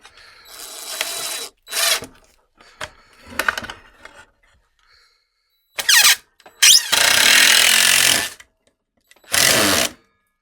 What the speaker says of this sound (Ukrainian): Беремо звичайний чорний шуруп по дереву і крутимо фанеру.